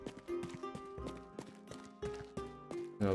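Horse hooves clip-clopping in the video game Rustler, a steady run of sharp, close hoof strikes with a faint musical bed underneath and no talk.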